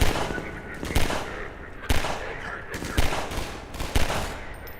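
Pistol fire in the video game Half-Life 2: several sharp, irregularly spaced shots ring out over a steady bed of game background sound.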